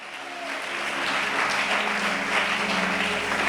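Church congregation applauding during a French-language sermon, a steady broad wash of clapping that swells slightly and holds at a constant level with no speech over it.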